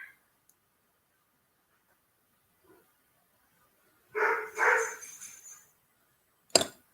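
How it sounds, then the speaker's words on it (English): Dogs kept shut away on a ranch bark in a short burst of two or three close, loud barks, followed by a sharp knock or clatter; no one talks. "you're probably hearing my dogs"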